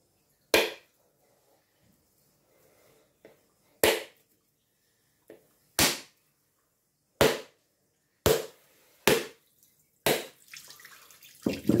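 A coconut is struck with a rock in a series of sharp, loud cracks, about seven separate blows spaced a second or two apart, with faint background rustle and water sounds between them.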